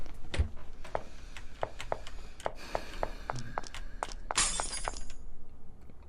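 Glass shatters in the horror video game Mad Father, with a bright crash of breaking fragments among scattered sharp taps and knocks at moderate volume.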